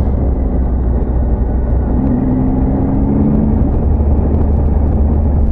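A vehicle in race mode drones steadily with dense, loud low rumble and wind roar, a faint rising whine swelling briefly midway as it accelerates along a forest road.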